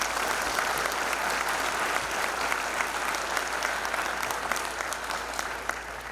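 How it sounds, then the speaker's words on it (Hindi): Loud, sustained audience applause fills the hall at a university convocation ceremony in Uttarakhand, a dense even wash of clapping that stays steady from start to finish with no voices on top. "इन सब के लिए जोर से ताली होता है।"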